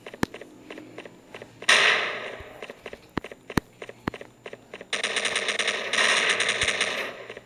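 Gunfire in the mobile shooter game Stand Off rattles in sharp single shots and dense automatic bursts, loud and close, with two long sustained volleys separated by scattered individual cracks.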